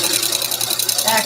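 A sewing machine stitches a back stitch, with a steady fast mechanical whir running throughout, close by and fairly loud.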